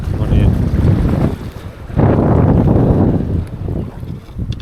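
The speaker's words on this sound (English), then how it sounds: "I knew it was going to be a strong southerly wind today, but it's changed more towards an easterly" Strong, gusty wind blasts across the microphone at a land-based fishing spot on the shore, roaring loudly throughout with a brief lull before surging again.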